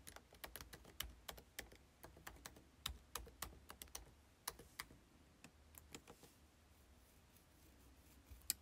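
A computer keyboard is typed on in quick, uneven bursts of crisp key clicks as a username and password are entered, close and fairly quiet, thinning out toward the end with no talking.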